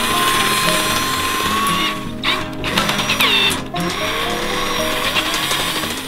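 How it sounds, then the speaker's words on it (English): A power drill at high speed whines steadily as it drives a screw into a sign and strips the head, the pitch dipping and wavering midway before resuming its loud, continuous grind. "So I put the drill at high speed."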